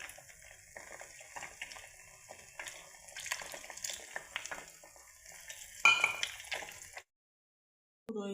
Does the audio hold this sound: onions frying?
yes